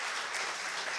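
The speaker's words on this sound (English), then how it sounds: "Let's give these guys another round of applause." Dense, even applause from a crowd at a family camp event fills the space continuously, with no talking.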